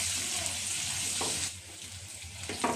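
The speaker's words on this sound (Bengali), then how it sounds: "দিয়ে আমি আলুগুলিকে ভালো করে ভেজে নেব" Potatoes frying in oil in a kadai with salt and turmeric, a soft continuous sizzle with a few faint stirring scrapes, fairly quiet and close.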